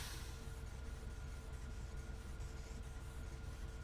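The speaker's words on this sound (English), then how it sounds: "Okay, here comes the train." A train arriving at a station in the factory-building video game Factorio, heard as a quiet, steady low mechanical rumble and hum with no talking.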